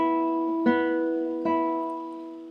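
Classical guitar played with free stroke so the notes ring over one another, two soft plucked attacks blending into a sustained, overlapping chord that slowly fades, close and alone.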